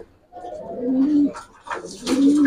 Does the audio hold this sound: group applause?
no